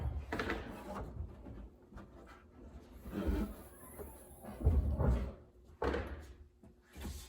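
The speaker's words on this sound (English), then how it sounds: "Well, now we get the door panel out." Hollow plastic clunks and knocks close by as a Jeep door panel is pried loose, a few separate thumps with scraping between them.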